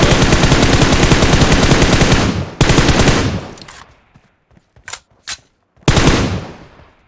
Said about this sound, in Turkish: Şunların ikisini de vuruyorum.